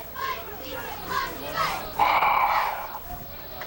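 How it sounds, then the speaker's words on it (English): A college football crowd at a rainy 2003 game between St. Ambrose University and Quincy in Davenport, Iowa, sends up rhythmic chants and cheers, led by cheerleaders. The shouts swell into a loud yell that carries from the stands. "Cheerleaders are doing a good job of keeping the crowd into the game."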